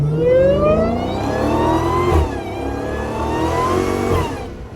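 A Dodge Hellcat engine revs loudly and steadily, its pitch rising and falling through several surges with no voices.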